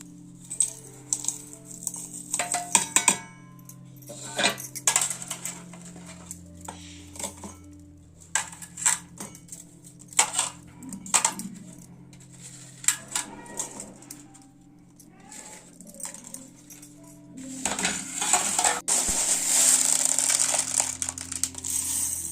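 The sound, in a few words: mixer grinder grinding whole spices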